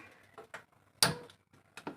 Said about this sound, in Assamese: এতিয়া গেছটো অন কৰি লওঁ।